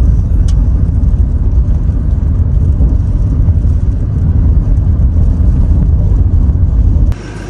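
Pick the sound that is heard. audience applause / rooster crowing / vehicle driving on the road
vehicle driving on the road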